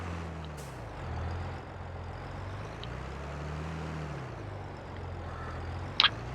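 Diesel truck reversing in Farming Simulator 22, a low engine drone rising and falling as it backs up, ending with a short sharp hiss like an air brake.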